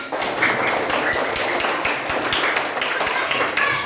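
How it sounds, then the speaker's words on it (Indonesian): A third-grade classroom of children claps their hands together, a brisk run of close, sharp claps that keeps up steadily for a few seconds. "Terima kasih anak-anak kelas 3 semuanya, tepuk tangan"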